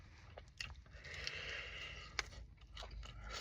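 Crunching bites into Popeyes fried chicken wings, close up and fairly quiet, with a few sharp crackly bursts and chewing scrapes scattered over a few seconds.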